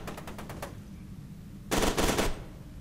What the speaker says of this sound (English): Fucking getting shot from all sides!